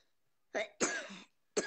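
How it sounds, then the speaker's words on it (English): A few soft coughs in quick succession, the middle one longer and rougher, close by in an otherwise quiet room. "A little cough?"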